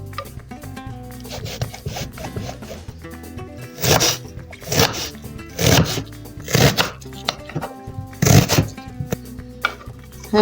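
An onion is chopped with a knife on a board for a salad, with bursts of rapid, steady thuds that grow denser and louder midway, close and with no talk.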